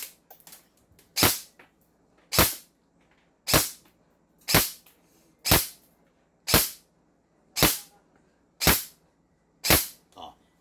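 A ZionArms MCQB airsoft gun fires nine sharp, evenly spaced shots about a second apart, each a crisp snap with a short decay, close and clear over a quiet background.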